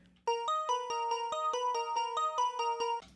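Arpeggiated synthesizer pattern from Ableton, a quick steady run of short plucky notes bouncing between pitches in an even pulse, clear and alone with a crisp cutoff at the end.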